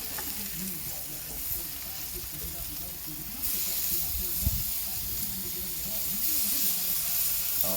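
Chicken smash burger patties sizzle steadily on a hot griddle right after being flipped, a dense, close hiss that swells slightly louder partway through and holds for several seconds.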